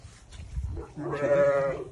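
A single Merino Landschaf sheep, a ewe kept with lambs, lets out a drawn-out bleat nearby after some quiet rustling.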